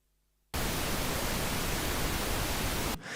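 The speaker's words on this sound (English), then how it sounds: "which generates a pink noise tone" Steady pink noise from a tone generator sent to a master bus, a loud, even broadband hiss that starts abruptly after a short silence and runs without change for about two and a half seconds, alone with no voices.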